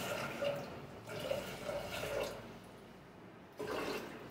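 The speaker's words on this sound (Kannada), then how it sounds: "ತೊಳೆದಿರೋ ಹುಳ್ಳಿಕಾಳಿಗೆ ಇವಾಗ ನೀರನ್ನು ಸೇರಿಸ್ಕೊಳ್ಳಿ" Water poured onto washed horse gram in a cooker, splashing and gurgling in a few bursts with short pauses between, close and moderately loud, with no talking.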